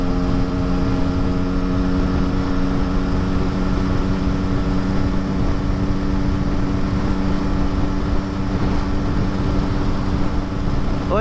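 A Yamaha RX King two-stroke motorcycle on a standard exhaust, with its engine running loud and steady close by and a constant droning tone throughout.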